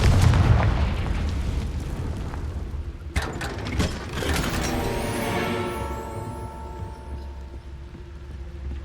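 A Confringo fire spell in Hogwarts Legacy bursts with a sharp crack followed by a booming blast and a long, ringing, metallic decay that fades gradually over several seconds.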